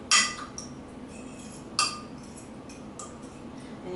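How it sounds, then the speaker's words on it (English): A utensil clinks against a bowl while an olive oil marinade is mixed, with two sharp knocks and a few fainter taps over quiet background. "So let's go ahead and mix that up."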